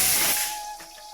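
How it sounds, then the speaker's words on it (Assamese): A pressure cooker cooking rice releases steam in a loud, close burst of hiss that quickly fades to a faint thin tone within about a second. "কুকাৰে মাৰিলে চিটি ভাত হৈ গ'ল।"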